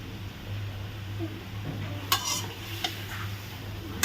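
Chili, salt and ginger stir-fried in a pan make a soft steady sizzle, with a low hum and a few sharp spoon scrapes and clinks against the pan partway through.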